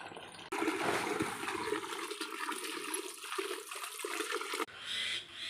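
Water gushes from a village tap in a steady, loud rushing stream, starting abruptly and cutting off sharply before quieter trickling follows.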